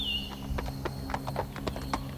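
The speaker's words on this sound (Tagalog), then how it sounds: "Maya-maya may mga kabayo dumaan sa labas." Hooves clip-clop at an uneven walking pace, fairly faint, with a brief high whistle at the start over a low hum.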